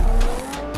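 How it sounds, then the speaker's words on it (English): A car engine in the Need for Speed racing game, a loud, close engine drone with a steady tonal hum and a couple of sharp swells, heard alone over this short moment. "Wow, listen to that engine."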